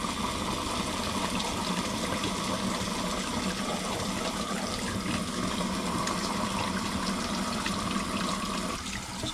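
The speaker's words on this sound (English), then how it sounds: "Keep that flushing through for a minute." Water rushes continuously through the cooling waterways of a classic Mini Cooper engine's cylinder head and block during a flush, a steady, dense gurgling hiss that holds throughout.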